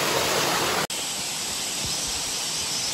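Khajuribani waterfall in Keonjhar, a steady broadband roar of falling water, loud and constant with no voices, interrupted once by a brief dropout.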